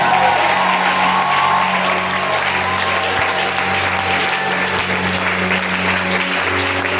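Sustained applause from a church congregation during a French-language sermon, steady and dense throughout with a low musical hum underneath.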